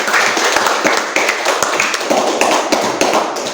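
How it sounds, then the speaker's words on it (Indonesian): A class of students claps hands in a classroom. The sharp, fairly loud claps come quickly, overlap a little and are somewhat uneven, and the clapping goes on for a few seconds. "Tepuk tangan dulu."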